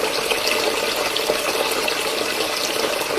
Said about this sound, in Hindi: मैंने ही सिंक का पानी खुला छोड़ा था ना।